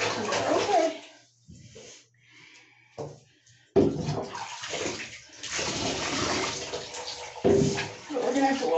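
Water splashing and running in a bathtub during a bath, heard in close intermittent bursts with quiet gaps, while a person talks softly nearby.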